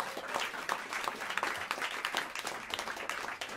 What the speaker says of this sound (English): You can give a hand to yourself.